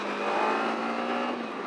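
A Kawasaki Ninja 300 motorcycle pulls hard under acceleration, its engine note loud, close and steady for a brief burst with no voices.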